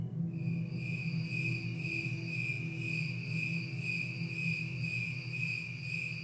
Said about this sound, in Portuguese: A primeira é a gravação normal do grilo cantando à noite.